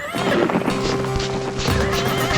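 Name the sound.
small horse neighing and running in a cartoon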